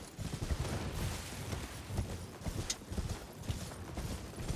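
Rapid hoofbeats of a horse in the video game Elden Ring clatter in a steady galloping rhythm, moderately close, with a busy, noisy backdrop.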